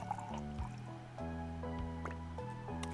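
Liquid pours in the cooking video game Chef RPG, with gurgling, dripping blips and a steady filling sound playing over a looping in-game melody, fairly quiet and continuous.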